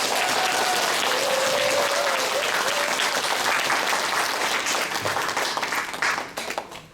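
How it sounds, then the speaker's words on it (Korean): An audience at a Korean spirituality lecture breaks into loud, dense applause that holds strong for several seconds before tapering into a few scattered claps at the end. "격렬한 박수로 한번 합니다."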